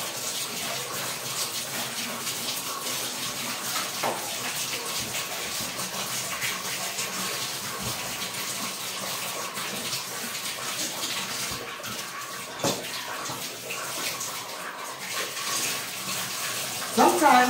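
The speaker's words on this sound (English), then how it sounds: "then I turn on the water a little bit, like a little bit of warm water." Warm water runs steadily from a bathroom tap during rinsing while cleaning, a continuous broadband rush with faint splashing, moderately close, lasting throughout without speech.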